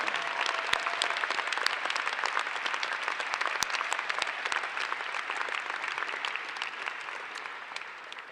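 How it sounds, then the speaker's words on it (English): At a high school graduation, the audience breaks into a long, even round of applause, dense close clapping with a few sharp individual claps standing out, easing slightly as it fades. "let's give all your family and friends who are in the audience a big round of applause"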